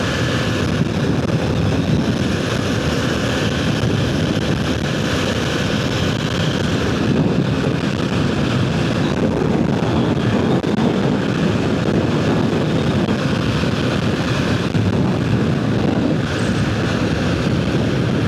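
Steady, loud wind roar buffets the microphone throughout, a constant low rumble of rushing air with no talk, riding at speed on a sport naked motorcycle.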